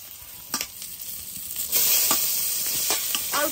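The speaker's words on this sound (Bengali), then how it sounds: "অল্প ভাজবো গাঁটকল, বেশি ভাজবো না, কম ভাজবো।" Ghetkol, a foraged village vegetable, fries in hot oil in a wok, making a steady close sizzle that swells as it goes, broken by a few scraping stirs of a spatula.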